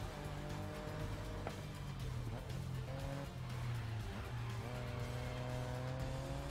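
Race cars in the Grid Legends driving game roar steadily, with engine drone and tire squeal filling the whole stretch, loud and continuous with no talk.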